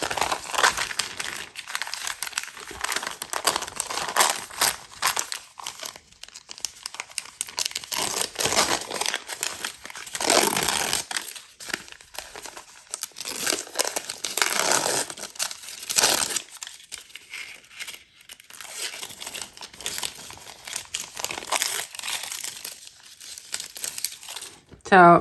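Crinkly, see-through vellum foundation paper piecing paper being handled and rustled for a long stretch, with irregular bursts of crackling and crumpling, close to the microphone and fairly steady throughout.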